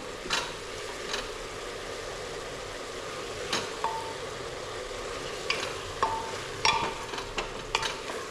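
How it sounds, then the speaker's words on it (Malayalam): Ingredients for chicken curry sauté in a pan, a constant close sizzle broken by occasional sharp scrapes and clicks of a stirring spoon, with no voices. "ഒന്ന് വഴറ്റി നല്ല വാടി വരട്ടെ"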